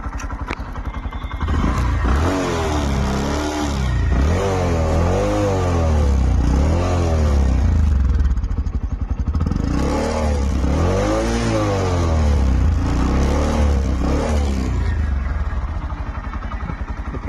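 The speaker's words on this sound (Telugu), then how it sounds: "ఇలాంటి వెహికల్ స్మూత్ రన్నింగ్ కండిషన్లో ఉందండి" A Bajaj Platina 100 motorcycle engine runs close by, revving up and down in repeated surges over a steady idle, loud and alone with no talk.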